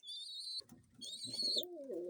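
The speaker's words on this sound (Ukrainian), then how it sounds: "Ось ще пищить і вже починає літати. Ось бойне іранське голуб'я." A young Iranian fighting pigeon gives two thin, high squeaks close up, each lasting about half a second, while lower cooing and soft bird sounds follow after each.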